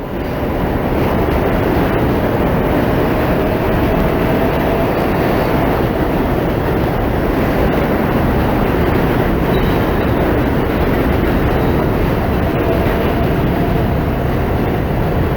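A Long Island Rail Road train rumbles steadily past at close range in Flushing, New York City, a loud continuous roar of wheels and carriages that stays level throughout.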